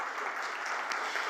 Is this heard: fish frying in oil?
no